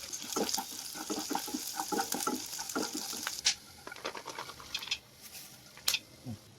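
Sunflower and watermelon seeds roasting in ghee in a pan for sugar-free dry fruit laddu, giving a steady crackling patter with scraping stirs and a few sharper clinks, close and moderately quiet with no talking.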